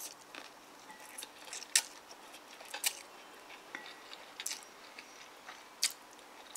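Noodles with pork balls and fish balls being chewed up close, giving soft, wet, intermittent crunches and squishes that rise and fall irregularly against a quiet background.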